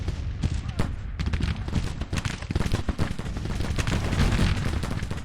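Dense, continuous gunfire and artillery from a Civil War battle in the strategy game Grand Tactician, with rapid overlapping shots and booms rolling under talk throughout.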